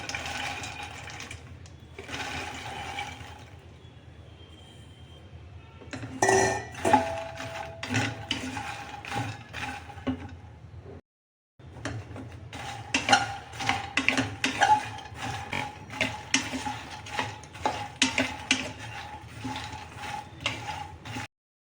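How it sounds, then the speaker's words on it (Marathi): Continuous rattling and scraping of dry fox nuts being stirred in a pan over low heat, a busy clattering texture with a short pause midway. "मखाने आता मंद आचेवर भाजून घेऊ"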